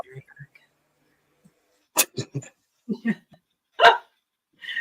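A dog barks in a few short, sharp bursts nearby, spaced irregularly with quiet gaps between them.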